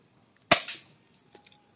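An airsoft BB gun fires a single sharp shot of a 0.20 g BB at a target, followed by a faint tick moments later.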